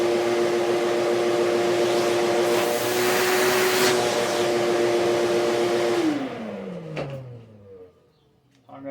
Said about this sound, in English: now I'm going to vacuum that hole out